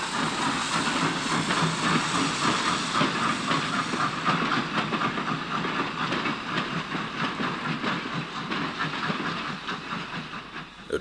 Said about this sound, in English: It's 31177 again, this time on the Westerham branch push and pull, filmed in August 1960.